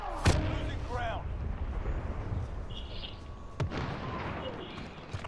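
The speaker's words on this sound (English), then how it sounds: "I can hear gunshots on the, I think, southeast" A few sharp gunshot cracks from Call of Duty: Modern Warfare Warzone ring out over a continuous rumbling din, with talk nearby between them.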